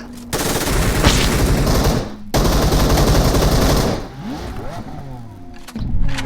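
Rapid automatic gunfire in the video game PUBG, dense sustained bursts broken by brief pauses with a vehicle engine revving underneath, loud and close.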